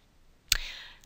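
A single sharp computer mouse click while selecting a function button in Excel, crisp and close, followed by a brief fading tail in an otherwise quiet setting.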